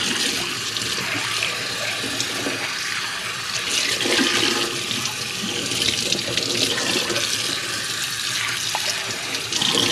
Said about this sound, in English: I just got this Pyrex container from the store, so I'm going to wash it a little bit.